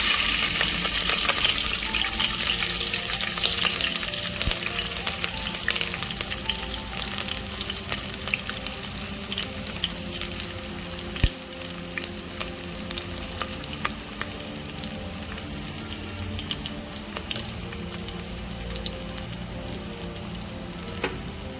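Green chillies and onions fry in hot oil in a pan, a continuous close crackling sizzle with occasional stirring clicks, steady and unbroken with no talk.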